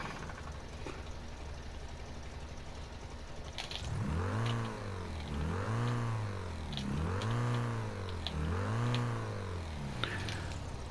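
A Ford hearse engine in the video game Mafia: Definitive Edition revs repeatedly in four rising and falling surges after a few seconds of low rumble, loud and close, with no talking.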